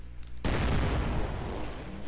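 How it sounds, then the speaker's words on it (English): An explosion at the start of a race in the Monster Jam Crush It video game, Harbor arena: a sudden loud blast that turns straight into a sustained, rumbling roar. "Explosion right at the beginning, that's the best classic right there."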